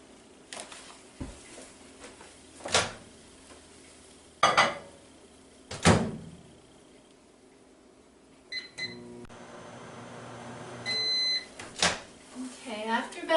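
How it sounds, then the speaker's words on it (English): A microwave oven runs while heating coconut oil in a glass pint jar. Its hum is heard alongside clinks of glass and dishes, and a series of electronic beeps follows. Speech is also present. "So I'm going to put this in the microwave for about a minute."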